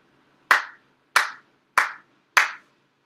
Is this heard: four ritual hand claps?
yes